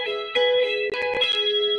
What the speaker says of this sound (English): try to play hammer on both notes at the same time and then pull off both notes